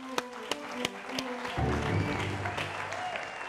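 Applause for a record-setting cooking marathon, starting as a few distinct spaced claps and then swelling into a denser round of clapping mixed with crowd noise and some background tones.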